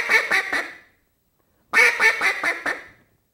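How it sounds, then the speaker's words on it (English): A duck call is blown in two short, fast comeback sequences of several raspy quacking notes each, loud and close, separated by a brief silence. "Here's an example of a short comeback call."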